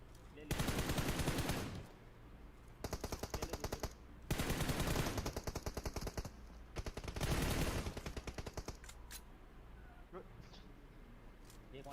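Rapid automatic gunfire in the Battlegrounds Mobile India game comes in several sustained bursts separated by short pauses, loud and close, with a voice talking in the background.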